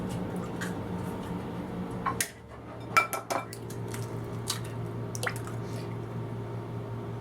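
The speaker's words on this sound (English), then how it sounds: "Here I have about a dozen eggs that I've cracked. Add it to this bowl." About a dozen cracked eggs poured into a bowl, with soft wet plops and squishes followed by a few clinks of the bowl and utensils in a quiet kitchen.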